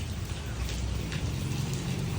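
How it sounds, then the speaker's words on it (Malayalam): Heavy rain pours outside a home in Kerala, a loud, unbroken wash of close-up patter with faint low rumbling underneath and no talking. "ഇവിടെ ഭയങ്കര മഴ കേട്ടോ."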